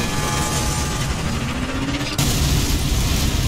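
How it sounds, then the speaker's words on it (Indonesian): A player-triggered explosion in Sniper Elite 4 erupts as a loud, sustained roaring boom that suddenly swells partway through and rumbles on, with no talking. "Kita ledakan, semoga dia kena ledakannya, boy."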